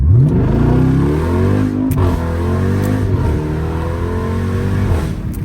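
A Jeep Trackhawk engine revs hard and climbs in pitch as it launches off the line, then drops briefly at each upshift before pulling again, loud and close throughout with no talking.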